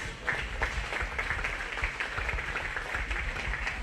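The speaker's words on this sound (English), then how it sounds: "Give another round of applause for these juniors." Steady applause from a crowd at a 4-H/FFA swine show, a dense wash of clapping at moderate volume with no voices over it.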